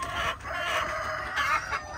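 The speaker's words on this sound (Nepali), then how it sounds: "भाले, हेर्नुहोस् भाले" Local chickens and roosters on a Nepali farm cluck and crow loudly and close by, a continuous run of overlapping calls with no talking.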